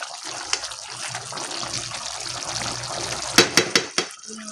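Water pours steadily into a cooking pan of tuna menudo with a splashy hiss, followed by a few sharp clinks or taps near the end.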